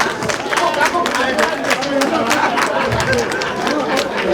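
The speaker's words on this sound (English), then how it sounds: "Clap for him now. Clap for him." An audience at a 2019 PCNI Orlando Branch induction ceremony applauds an inductee, a steady patter of hands mixed with crowd chatter and a speaking voice.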